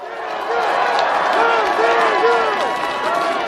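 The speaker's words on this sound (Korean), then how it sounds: "박수 한 번 더 크게 주세요" Audience at a Democratic Party political rally for presidential candidate Lee Jae-myung in Incheon, a steady wash of crowd applause and cheering heard from amid the throng, with voices calling out over the clapping.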